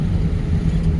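A car on a driving lesson runs at steady speed after a shift into third gear, a loud continuous low engine and road rumble with no voices.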